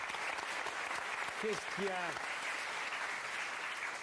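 Audience applause at a French television talk show studio, a steady dense wash of clapping filling the whole stretch, with a brief spoken question rising over it midway.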